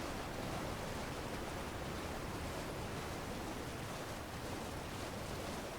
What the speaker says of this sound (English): Something's gonna come out of this waterfall.